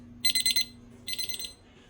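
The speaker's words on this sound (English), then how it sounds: "So the timer is going off" A kitchen timer alarm beeps while a steak is being cooked, two bursts of rapid shrill beeping separated by a short pause, loud and close with no voices.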